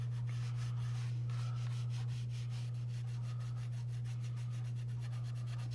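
A crayon rubs lightly over paper while an apple is drawn, a close, quiet rhythmic scratching in quick repeated strokes over a steady low electrical hum.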